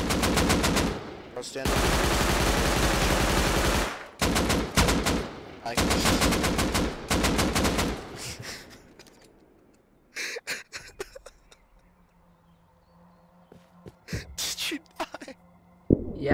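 Automatic gunfire in the survival video game Rust: loud, dense bursts of rapid shots in long strings, then scattered shorter bursts and single cracks, with a voice speaking briefly between volleys.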